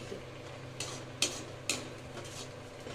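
Food stirred in a pan on a gas stove, with a soft steady sizzle under a few sharp utensil scrapes and clinks against the pan, close and moderately quiet.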